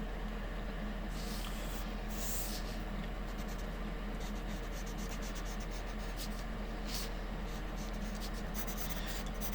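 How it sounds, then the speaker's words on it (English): Pencil sketching a frame of traditional hand-drawn animation on paper gives a steady, close scratchy rubbing that runs through the whole stretch, with brighter bursts of strokes and no talking. "You can see on my sketch I'm quite loose with how I'm drawing"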